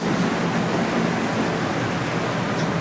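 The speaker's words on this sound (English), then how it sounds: "this is the water pouring out the roof of the central station." Heavy tropical rainwater pours from the roof of a central station in Kuala Lumpur, a loud, dense, continuous rush with no breaks.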